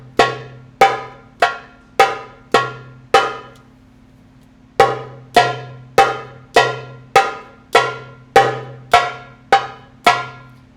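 Darbuka (doumbek) tek and ka strokes, sharp, bright, evenly spaced hits in two runs separated by a short pause, close and loud, with no voices.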